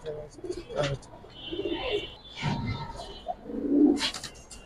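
Pigeons cooing close by, soft low repeated coos rising and falling over several seconds, with faint voices and chirps mixed in.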